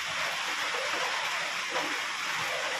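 Steady broadband hiss of rain falling, constant and fairly close, with no voices over it.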